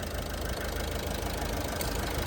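A large vehicle's engine idles just after starting, a steady low rumble with a faint knocking texture, fairly quiet and even throughout.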